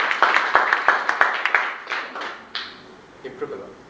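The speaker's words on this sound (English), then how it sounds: "let's give a round of applause to 2 lecturers." A brief round of applause for two lecturers at a project closure event, a group clapping in quick bursts that thin out and fade after a couple of seconds.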